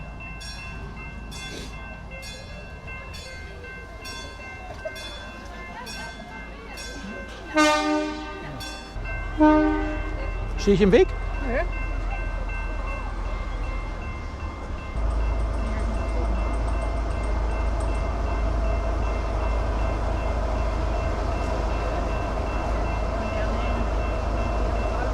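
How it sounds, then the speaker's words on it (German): A diesel locomotive train sounds a horn in a few loud blasts near the middle, its engine rumbling steadily and building louder toward the end; someone briefly speaks over it. "Die enttäuschende Diesellokomotive hat jetzt umgedreht."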